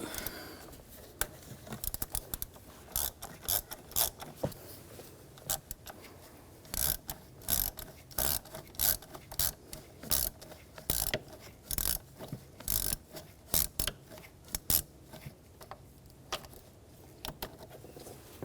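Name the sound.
ratchet with T25 socket removing screws on BMW X5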